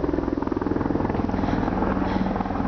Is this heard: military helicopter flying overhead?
yes